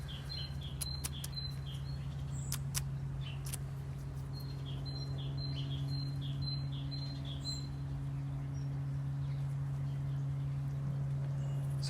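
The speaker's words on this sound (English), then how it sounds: "Somewhere blackbird is giving it loads." A blackbird sings in repeated bright phrases from some distance, faint over a steady low hum and background noise, with occasional small clicks nearby.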